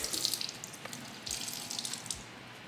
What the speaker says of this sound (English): I'm just kind of putting the shirt in the sink and washing it a little bit